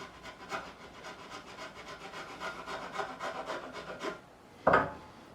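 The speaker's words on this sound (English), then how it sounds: "that is filing a bit easier than I thought it would do. This is a very sharp file I've got here" A very sharp file rasps back and forth across the nut of a Squier 40th Anniversary P Bass, a quick, steady series of close rubbing strokes ending with a brief sharper scrape.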